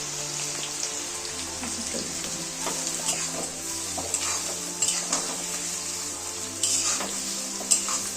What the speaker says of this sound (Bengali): তেল গরম হয়ে গেছে, এখন আমরা পেঁয়াজ দিব